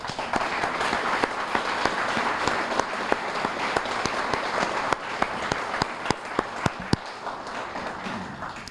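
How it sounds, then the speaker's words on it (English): A room full of people at a museum gala applauding steadily, dense clapping with a few louder individual claps standing out near the end. "take a very nice round of applause for all of the work"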